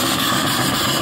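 A steam donkey engine runs steadily close by after its cylinder pet cocks are closed, giving a dense, continuous mechanical chuffing and rumble with no voices.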